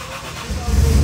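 A supercharged car engine cranks and catches, swelling from a low rumble into a loud, rough idle in under a second.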